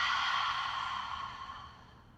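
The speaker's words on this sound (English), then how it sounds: "Take one more inhale. Exhale out your mouth." A long, breathy exhale through the mouth during a yoga hip-opening flow, close and clear, starting strong and slowly fading out over about two seconds, with no talking.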